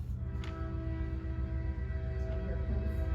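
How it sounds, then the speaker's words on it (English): Train passing near a Big Sandy city council meeting: a faint, distant sustained horn tone over a low rumbling undertone, steady throughout. "Here comes Chief's train."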